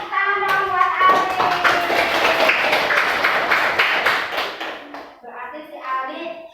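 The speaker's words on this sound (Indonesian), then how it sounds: "Kasih tepuk tangan dong buat Ali." A group of children clapping for a classmate named Ali in a classroom, giving quick, busy clapping mixed with children's voices and chatter, and fading as talk continues.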